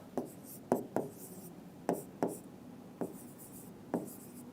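A pen writing numbers by hand on paper during a reasoning lesson, with a series of short scratchy strokes at an irregular pace, close and quiet, no talking.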